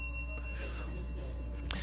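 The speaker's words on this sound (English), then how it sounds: "You get a bell." A bell rings once with a bright metallic ding that leaves a long ringing tail, followed near the end by a second faint strike, fairly quiet over a low steady hum in a room.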